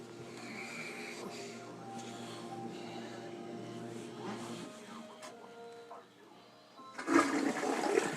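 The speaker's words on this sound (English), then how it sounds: "Okay, Larry, I flushed it. You can hear it." A toilet flushes at a flooded deer camp in Michigan's Upper Peninsula, a close, droning rush of water that fades out, followed by a louder gurgling surge of water near the end.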